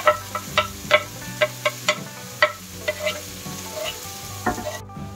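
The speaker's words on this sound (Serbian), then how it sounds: "i njega ćemo sada pržiti da nam omekne" Chopped onion frying in a pan for meatballs in tomato sauce, with a utensil clinking sharply against the pan in an irregular series of stirring taps over a low, steady background.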